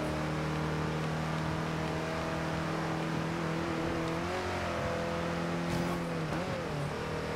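A VW Kombi van races in Forza Horizon 2 on a wet track, its engine humming steadily with rising and dipping pitch as revs change, close and continuous, with a brief wobble near the end.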